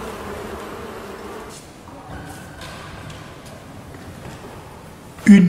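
Honeybees buzzing at a hive, a faint, steady hum that wavers quietly in the background and ends with a short, heavy thump.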